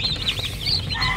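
Chickens and newly hatched chicks in a farm range area give off a dense, close chorus of high cheeping peeps with softer clucks underneath.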